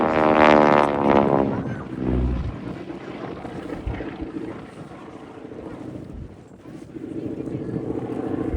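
A WWII tail-dragger trainer aircraft flies past at an outdoor air show, its propeller engine droning loudly at first with a wavering pitch, then fading into steady wind noise and a distant hum as a commentator talks over it.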